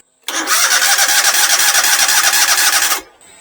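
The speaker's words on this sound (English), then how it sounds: "Definitely cranks it over faster." A car engine, boosted by a GOOLOO GTX280 jump pack, cranks with a fast rhythmic whirring for nearly three seconds, loud and close, then stops as the engine catches.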